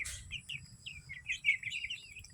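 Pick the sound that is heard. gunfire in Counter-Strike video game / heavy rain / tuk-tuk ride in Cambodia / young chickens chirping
young chickens chirping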